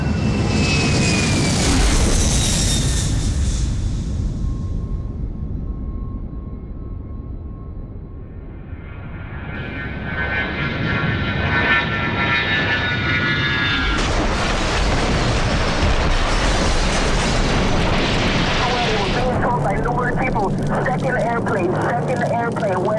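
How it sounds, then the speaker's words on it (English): A jet airliner roars past and strikes the World Trade Center, a loud sweeping engine rush rising and falling over about twenty seconds, with a booming impact rumble that blends into dense noise. "2nd airplane went in on the other side of the World Trade Center."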